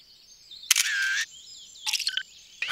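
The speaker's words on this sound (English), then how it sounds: "Let's take a photo and send it to my sister Katie." Bright electronic camera shutter clicks and chimes sound as a photo is taken, short bursts separated by quiet gaps over a faint background tone.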